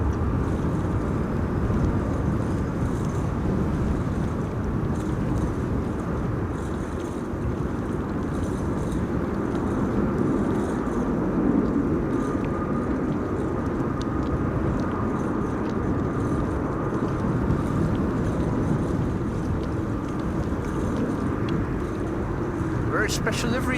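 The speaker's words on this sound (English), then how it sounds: "That's PC-24. Having landed on runway 22." A Pilatus PC-24 business jet lands on runway 22 at a windy Amsterdam Schiphol, with a constant broad roar and rumble blended with gusting wind noise throughout.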